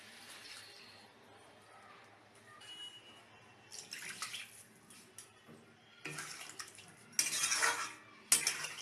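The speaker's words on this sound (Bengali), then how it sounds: "এবার জল দিয়ে দিচ্ছি।" Water poured into a pan of potato and pointed gourd curry, with splashing and clinking of utensils against the pan, getting louder in bursts toward the end.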